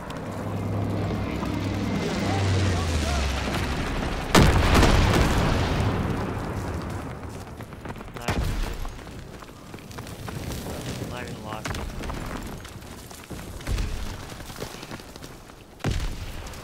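Heavy explosions from an incendiary bomber strike in a World War II video game boom repeatedly, with several loud blasts at irregular intervals over a rumbling battlefield bed.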